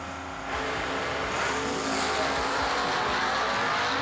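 Superstock drag race cars, including an E-stock Camaro, launching down a Bowling Green strip: engines roar up from a quieter start into a sustained, distant-sounding howl with no talk over it.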